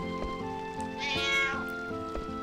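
A cat meows once in Final Fantasy IX, a short bright mew rising over a quiet tinkling game tune with soft rhythmic ticks, near and clear.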